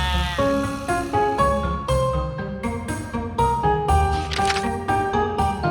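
A sheep bleats repeatedly in a garden, a series of loud, close, wavering calls following one after another over a low rumbling background.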